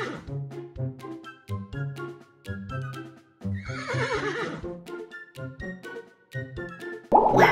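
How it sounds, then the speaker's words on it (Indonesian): A white racehorse neighs in a cartoon-like scene, its whinny mixed with plopping, clip-clop and patterned tonal effects that repeat rhythmically, loud and close with no speech. "Lihat ini kuda balap makan rumput"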